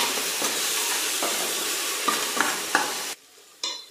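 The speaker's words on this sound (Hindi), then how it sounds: "हे पण छान तेलामध्ये फ्राय होऊ देऊया आपण।" Chopped tomatoes frying in hot oil with ginger, garlic and onion for pav bhaji, a loud continuous sizzle broken by a few sharp spatula scrapes before the hiss suddenly drops away near the end.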